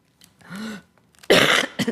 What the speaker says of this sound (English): Sorry, this awful cough.